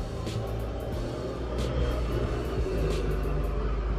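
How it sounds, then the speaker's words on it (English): A loud FedEx delivery truck passes outside, a steady low engine rumble swelling slightly as it goes by, heard alone with no talk. "FedEx truck."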